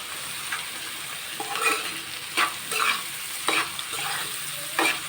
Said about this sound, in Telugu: ఆనియన్స్ అయితే వేస్తానండి.